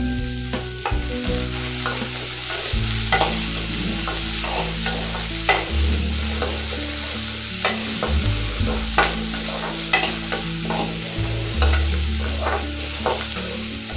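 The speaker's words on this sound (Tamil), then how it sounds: "வெங்காயம் இந்த அளவுக்கு வதங்கினா போதும்." Chopped onions sautéing in a pan for a Tamil cluster bean poriyal, a steady close sizzle broken by repeated scraping and stirring strokes throughout, with no voices.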